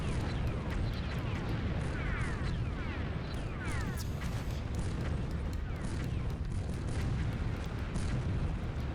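Tank cannon fire and explosions in the combat game BattleTanx, a dense, continuous barrage of booms and crackling blasts layered with whistling sweeps, loud and steady throughout.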